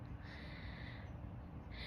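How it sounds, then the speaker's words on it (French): A small rosefinch sings faintly outdoors, two drawn-out high notes at the start and end of a short quiet stretch. "Il y a un petit oiseau, je pense que c'est un roselin qui chante."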